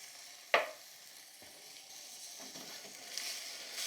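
Sugar hits cranberries cooking in a pan over medium-high heat with one sharp grainy patter, then a soft, steady sizzle and faint stirring carry on quietly.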